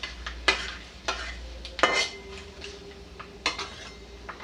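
Sharp crackling and popping bursts of spices tempering in hot oil for an elephant yam curry arrive in irregular clusters over a faint steady sizzle, close by with no voices.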